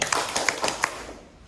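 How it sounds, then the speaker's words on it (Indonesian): A few sharp hand claps ring out in a quick, slightly uneven series of three, fairly close, in a classroom, then the sound fades into room noise. "Tepuk tangan 3 kali."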